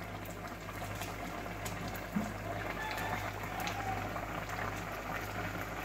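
Bitter gourd curry, cooked without oil, simmering in a pot: a soft, steady bubbling with a low continuous hum underneath, faint and unbroken throughout.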